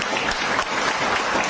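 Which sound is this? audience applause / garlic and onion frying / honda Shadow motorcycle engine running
audience applause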